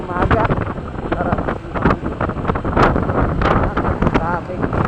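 Strong wind buffets the microphone on a wide open road in the morning, gusting in loud bursts throughout, while someone talks over it.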